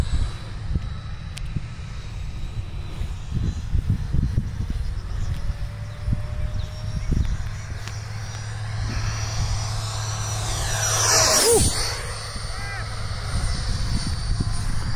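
An F5 model airplane makes a full-throttle, high-speed pass, its whining engine rising as it approaches and then dropping sharply in pitch as it streaks past over a field, with outdoor wind and background noise.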